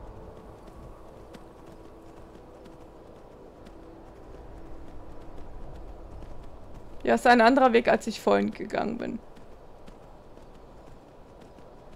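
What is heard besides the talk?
horse hooves while riding in video game Skyrim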